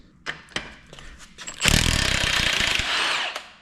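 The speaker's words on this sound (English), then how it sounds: "I'm going to quickly get my wire wheel and just clean those" A wire wheel spins up and grinds against the studs of a GM 10 bolt front axle, a harsh sustained whir after a few short knocks and clicks, loud and close.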